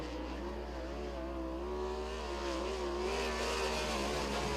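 A sprint car's engine drones at steady high revs through a timed qualifying lap at Lincoln Speedway, a dirt oval in Pennsylvania, loud and continuous with a slight rise in pitch.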